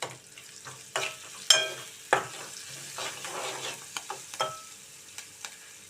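Salted onions fry in a pan for a potato and tomato curry, a soft low sizzle punctuated by several sharp spatula scrapes and clinks as they are stirred, close and without talk.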